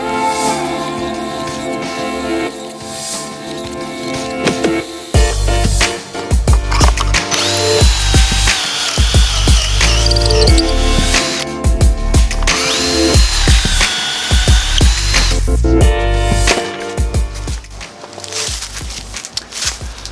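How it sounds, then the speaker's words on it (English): Desktop belt sander grinding against a 2x4 piece of wood, a loud continuous motor whine with rising and falling pitch as the board is pressed on and off the belt over about twenty seconds. "I'm using a desktop belt sander"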